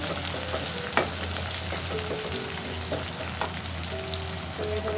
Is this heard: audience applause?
no